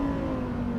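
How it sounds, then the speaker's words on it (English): A Lamborghini Huracan STO's naturally aspirated V10 engine holds a loud, steady high rev on a race circuit, with a bright sustained tone and no talk over it. "that V10 engine remains an absolute standout feature, doesn't it? I mean, just listen to it."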